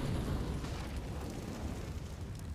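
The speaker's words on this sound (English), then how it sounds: "here comes the Molotov onto Tao" A Molotov bursts into flame on the Train map in a CS:GO esports match, a dense, roaring crackle of fire that stays loud and steady throughout with no voices over it.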